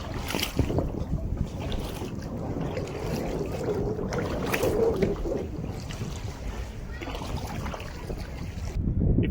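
A tour boat cruising through Lan Ha Bay near Cat Ba, Vietnam, with a steady engine drone, water wash and wind buffeting the microphone throughout.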